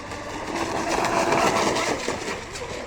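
A ProBoat U-34 8S hydro RC boat's electric motor running under throttle, a steady loud whirring drone with a slight swell in the middle, heard close with no voices.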